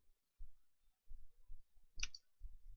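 A computer mouse gives a single sharp click amid quiet low thumps and faint handling noise.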